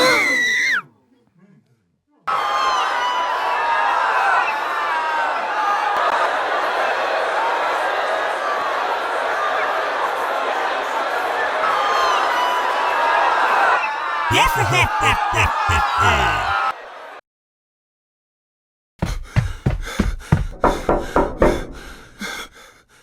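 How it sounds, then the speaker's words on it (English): Concert crowd goes wild in a long loud burst of screaming and shouting, cut off abruptly, then followed by choppy bursts of noise and separate loud sharp hits after a silence. "The crowd is losing its mind, and not in a good way."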